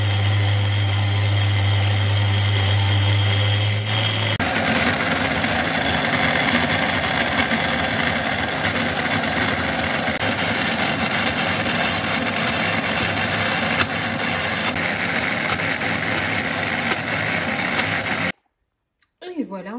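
A food processor grinds hazelnuts into a paste, its motor roaring loud and steady up close, stepping up in speed a few seconds in and running continuously before cutting off near the end.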